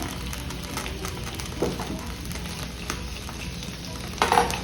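Small fish and dried shrimp frying in a pan, a steady crackling sizzle with occasional stirring scrapes and a brief louder burst near the end, close and without talk.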